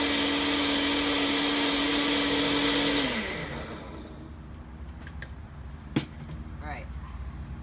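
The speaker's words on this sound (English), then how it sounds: "these ingredients, we're going to blend them, so let's go do it right now" An electric blender whirs loudly, grinding curry mee ingredients in a steady high whine for about three seconds, then spins down and stops, leaving quiet kitchen room tone with a brief clack.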